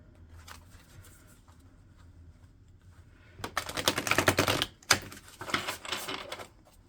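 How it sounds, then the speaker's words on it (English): A stack of tarot cards is shuffled in two quick riffling bursts, a crisp rapid patter with a brief pause between, fairly close and clear. "I'm going to give my cards a shuffle here."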